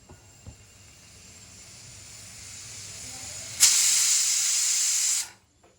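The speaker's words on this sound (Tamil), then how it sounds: "ஒரு விசில் அடிச்சிருச்சு" A pressure cooker cooking ponnanganni spinach greens lets out a loud, close burst of hissing steam that lasts under two seconds, then cuts off. A fainter hiss builds before it.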